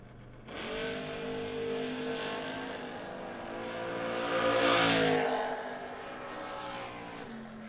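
A 1975 Chevrolet Monza drag car makes a solo bye run at a drag strip, its engine launching with a loud roar that climbs through the gears and peaks about two-thirds of the way through before easing off.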